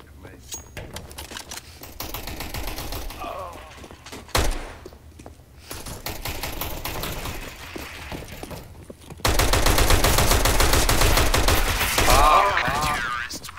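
Gunfire in CS:GO, bursts of shots and impacts that grow louder and denser toward the end, heard beneath players talking over each other.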